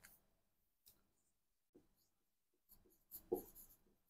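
Faint, sparse scratches and taps of writing on a board, coming in short separate strokes with quiet gaps between them and a slightly louder flurry near the end.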